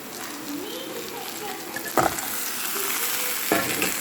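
Fish frying in a hot pan, a steady close sizzle with two brief louder bursts as pieces go into the oil, with faint background noise and no talk.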